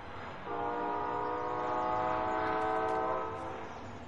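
A train horn sounds as a long, loud, sustained chord over the rumble of the train, then fades, with the steady roar of the rail vehicle continuing beneath it.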